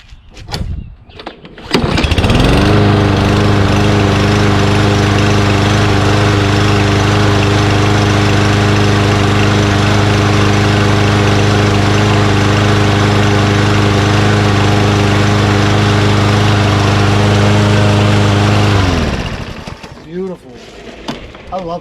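Lawn mower small engine starts with a pull, then runs loudly and steadily for about sixteen seconds, up close, before shutting off and winding down.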